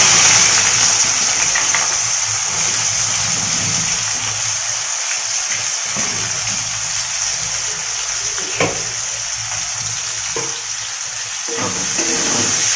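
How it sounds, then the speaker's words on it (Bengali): Onions crackle and sizzle in hot oil with bay leaf, cloves, cardamom and whole garam masala, a steady bright frying hiss broken by short bursts of spattering and stirring. "তো এবার আমি দিয়ে দিলাম পেঁয়াজ ফোড়ন।"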